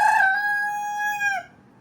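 A rooster on a Ghanaian poultry farm gives a single clear crow, a sustained bright call held for over a second before cutting off, fairly close with no talking.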